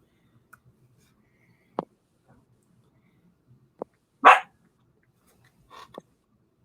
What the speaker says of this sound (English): Rip, don't sit here and bark.